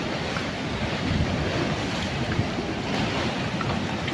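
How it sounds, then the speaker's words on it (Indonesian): Small ocean waves wash ashore at Drini Beach on Indonesia's South Sea, a steady broad surf wash mixed with wind buffeting the microphone, continuous with no distinct breaks. "Ini ombaknya kecil."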